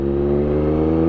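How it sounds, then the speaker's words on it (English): A loud 2024 Triumph Street Triple motorcycle exhaust rumbles close by, holding a steady, deep, throaty drone with no pauses. "this exhaust is like incredibly, incredibly loud"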